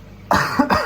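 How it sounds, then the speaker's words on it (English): A man with a cold coughs, close and loud, with two or three harsh rough bursts in quick succession. "sorry if I'm coughing, guys, I'm just getting rid of that cold."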